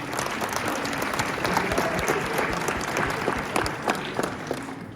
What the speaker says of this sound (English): Our wrestling team, yeah, you can clap.